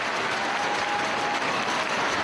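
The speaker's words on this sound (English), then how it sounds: "And the crowd urging him to get back to his feet." Wrestling crowd at a Ring of Honor match applauding steadily, a dense, continuous wash of clapping and crowd noise urging a downed wrestler back to his feet.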